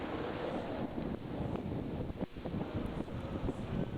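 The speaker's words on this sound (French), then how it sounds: "Le vent soufflait tout autour de moi." Wind blows steadily as a sound effect in a French audio story, a constant breathy rush with gusty buffeting that dips briefly midway, heard alone without voices.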